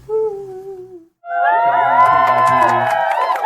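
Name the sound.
audience applause and cheering at live music event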